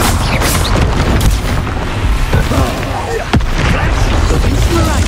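Hogwarts Legacy spell combat in which the Expulso spell sets off booming explosions, with loud, dense blasts and crackling bursts layered over game noise and voices.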